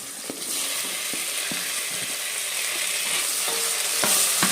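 Tomatoes and green peas frying in oil for a village-style tomato bath, stirred in a pan with a continuous loud sizzle and repeated scraping clicks of the spoon.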